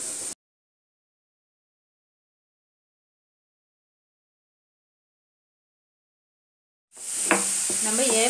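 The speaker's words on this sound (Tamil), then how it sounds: "இப்போ பாருங்க, நம்ம நல்லா வதக்கி விடணும்" Grated carrot being sautéed for carrot halwa: a short burst of sizzling and stirring opens, then near silence for several seconds before the frying and stirring return close and steady at the end.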